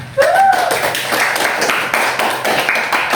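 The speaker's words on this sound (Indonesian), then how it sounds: "Berikan tepuk tangan untuk pertanyaannya." A classroom of students claps together for a classmate's question, a short burst of rhythmic hand clapping up close with a brief voice at the start.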